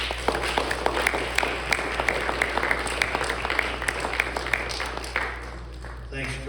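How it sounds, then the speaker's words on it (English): An audience applauds Dr. George Thompson at a community talk in East Palestine, Ohio, with steady, moderately loud clapping that holds for several seconds and then thins out near the end. "Let's give him a big round of applause."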